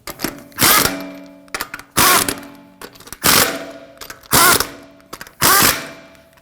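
Power tool snugging lug nuts down onto a Honda Pilot front wheel: five or six sharp, loud bursts of rattling hammering, close by, separated by short pauses and clicks.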